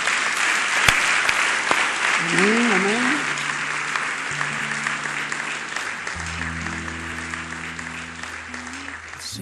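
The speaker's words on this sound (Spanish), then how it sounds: "Dale un aplauso al Señor." A church congregation claps for the Lord in a sustained round of applause during a service. A voice says a brief word over the clapping, and a few sung or held tones rise underneath.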